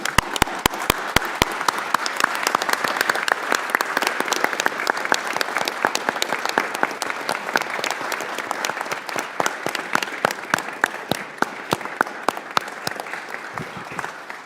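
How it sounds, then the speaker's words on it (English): At a congressional committee hearing, a room of people claps for about fourteen seconds. Sharp individual claps open the sound, then build into steady, moderately loud applause and thin out near the end. "I just want to give him a big round of applause for his service"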